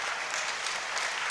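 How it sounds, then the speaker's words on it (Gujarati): A crowd of monks and devotees applauds at a Hindu religious festival celebration: thick, sustained clapping from a large gathering, even and unbroken, at moderate loudness with no talk. "તાળીઓ પાડો"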